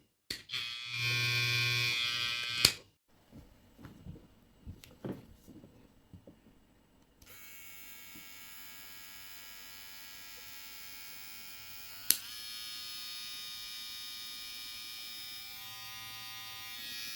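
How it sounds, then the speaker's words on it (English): An Opove T6 detachable hair trimmer with its blade buzzes steadily up close, starting briefly, switching off after a click and some handling taps, then running again in a long even electric hum. "this is hair trimmer"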